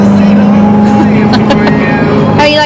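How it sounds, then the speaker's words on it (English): Corvette engine droning loud and steady from inside the moving car, a constant low hum with some rising tones near the end, while people talk over it. "Listen to the engine."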